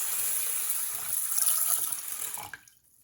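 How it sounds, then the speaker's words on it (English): Water gushes steadily from a tap onto chana dal and tur dal set to soak for masala vada, a continuous splashing stream that cuts off abruptly after about two and a half seconds. "Let's add water."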